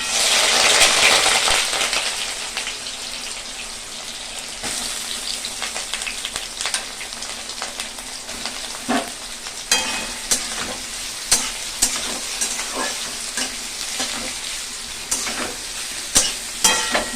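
Soybean chunks fry in hot oil while a utensil stirs them, a steady crackling sizzle broken by sharp scraping and clinking strokes that grow more frequent toward the end, close and fairly loud with no voices.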